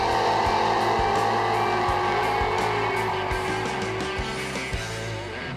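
Race car launching at the track, engine droning loud with rhythmic low pulses and a rising pitch as it pulls away, tapering slightly at the end.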